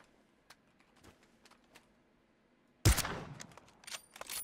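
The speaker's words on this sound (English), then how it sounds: "They don't like those shots around here." Gunshots outside, a sudden sharp crack after quiet ambience followed by a rattling burst of further shots and echoes, moderately distant.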